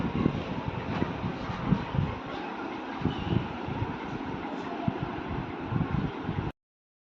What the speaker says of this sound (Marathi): मिक्सरला फिरवून घ्यायचं आहे